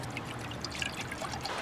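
Water poured from a container into a dog's food bowl, a steady close trickling splash that runs for under two seconds without pauses.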